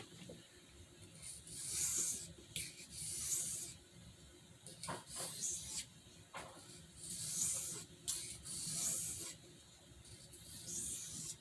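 A Rough Ryder RR2186 half hawk knife with denim Micarta handle is sharpened. Quiet, rhythmic rasping strokes of the blade repeat one after another in steady pairs, close up and with no talking.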